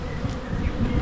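Honey bees buzzing steadily at close range while a beehive is opened for inspection, a dense continuous hum with no voices.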